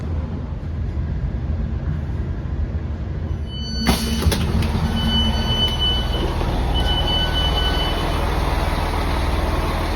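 A GWR Class 165 diesel train engine drones steadily close by, with a sharp high whine and metallic tones cutting in partway through and holding to the end.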